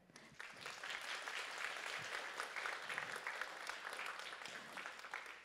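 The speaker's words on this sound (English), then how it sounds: "Please give a big round of applause to show your appreciation." Audience applause at a science symposium, the Future Science Prize Week summit on quantum information physics, a steady even wash of many hands clapping through the whole stretch at moderate distance, with no voices over it.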